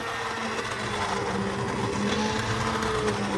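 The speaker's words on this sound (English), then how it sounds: "but let's start blending." Immersion blender whirring steadily through peach BBQ sauce, a continuous motor drone with gritty churning texture, moderately close and without talk.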